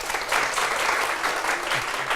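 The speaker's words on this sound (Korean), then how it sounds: "우리 감사의 박수 함께 해주시면 감사하겠습니다" Steady applause of thanks from a Korean talk-concert audience after a professor's lecture, dense and continuous throughout with no pauses.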